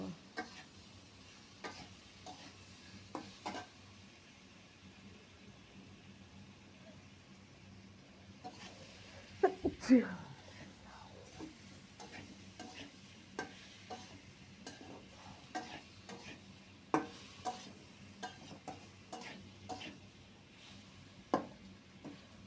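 Pre-boiled radish goes into a pan of rui fish curry and is stirred: faint scraping and clicking spoon strokes with a soft sizzle, plus a louder clatter partway through, all quiet and close.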